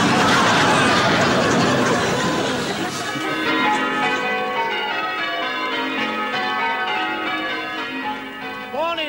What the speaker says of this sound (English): Nice to hear the bells again.